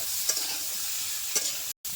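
Steady hiss of cauliflower frying in a pan, with a couple of soft scraping stirs and a brief break near the end.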